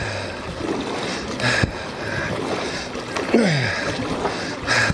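A kayak being paddled across a large lake, with steady water wash and a few sharper splashing paddle strokes close by, fairly loud and with no talking.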